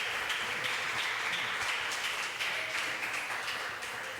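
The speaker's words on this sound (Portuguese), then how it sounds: "Aplauda ao Senhor por isso." Steady, dense applause from a congregation during a church service, a continuous wash of many hands clapping at even loudness that fades slightly at the end.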